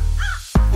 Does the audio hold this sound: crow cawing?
yes